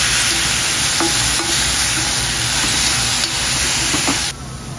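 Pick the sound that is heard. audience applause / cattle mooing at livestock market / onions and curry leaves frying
onions and curry leaves frying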